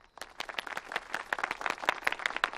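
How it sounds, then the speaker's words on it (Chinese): Villagers at an evening village show break into brisk, dense clapping to welcome the visiting parents, a short burst of crowd applause with no talking. "我们用热烈的掌声欢迎他们"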